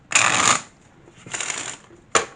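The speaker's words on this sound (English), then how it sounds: "So let's shuffle a regular deck of cards." A regular deck of playing cards is shuffled up close in three quick riffling bursts, with a longer riffle first, a softer one after a pause, and a short final snap, with no one talking.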